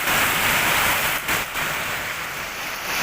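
Heavy monsoon rain in Kerala pours down in a dense, steady wash, loud and close, with a brief dip partway through and no voices.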